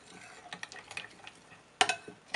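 Cottage cheese pancake batter with flour and raisins being stirred in a bowl, with soft scraping and a few sharper clinks of a spoon against the dish, quiet and close.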